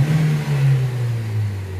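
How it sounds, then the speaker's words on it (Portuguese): Chevrolet Onix engine revs in a quick throttle blip, a strong low drone rising and then easing off steadily over about two seconds, close and loud with no talk. "Então vou dar uma acelerada rápida aqui."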